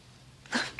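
A single short sneeze bursts out near the end of a quiet moment, sharp and close.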